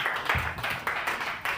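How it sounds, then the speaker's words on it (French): A church congregation claps in praise, a quick run of sharp, somewhat distant handclaps in steady rhythm, fairly soft overall. "Veuillez applaudir pour le Seigneur de Seigneurs."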